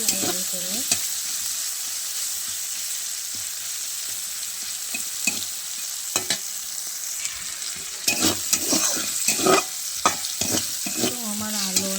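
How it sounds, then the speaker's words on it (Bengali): Potatoes and shrimp fry in a pan with a steady sizzle, while repeated scraping stir strokes cluster toward the end, close and distinct with no talking. "আলু আর চিংড়িগুলো একটু ভালো করে ভেজে নিতে হবে লাল লাল করে"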